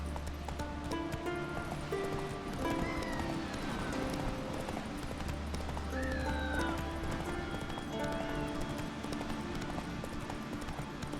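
Horse hooves clip-clop in a steady rhythmic gait while riding in The Witcher 3 video game, with a neigh or whinny, ambient game sounds and faint background voices.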